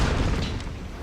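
Booming cannon and artillery fire from a battle in the strategy game Empire: Total War, a dense, continuous roar of overlapping blasts with no clear gaps.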